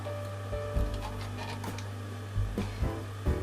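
A sewing machine stitches a Christmas tablecloth in short bursts, its low motor hum rising and stopping with rhythmic needle ticks, close and clear, with no voices over it.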